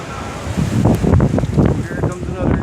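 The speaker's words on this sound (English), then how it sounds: "Here comes another gust." Hurricane Irma wind gusting in Davie near Fort Lauderdale, Florida, with roaring, buffeting gusts of around 75 mph hitting close to the microphone and rising and falling over a couple of seconds.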